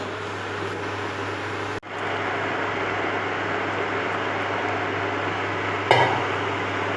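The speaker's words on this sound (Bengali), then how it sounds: "ঘন ঘন এইভাবে নাড়তে হবে।" Rice payesh is stirred in a pot on an induction cooker, giving a steady bubbling hiss and faint scraping that runs throughout, with a brief clunk near the end.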